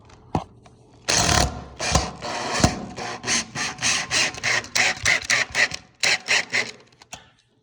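A power drill whirs in a series of short bursts, pre-drilling screw holes in wood with grinding rasps, close and loud, each burst separated by brief pauses.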